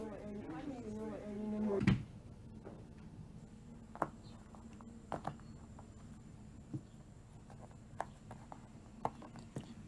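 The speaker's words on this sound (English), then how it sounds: "Close the door on your way out, will you, Sergeant?" An indoor door swings shut with a single solid thud, right after a voice speaks; afterwards the quiet room carries only scattered small knocks and taps.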